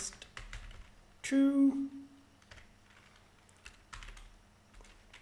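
Keys clatter on a computer keyboard as Python code is typed, scattered clicks and short bursts throughout, with a brief spoken word early on and a sustained vocal sound near the start.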